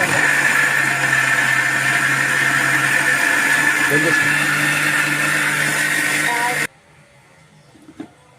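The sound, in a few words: mixer grinder grinding moong dal batter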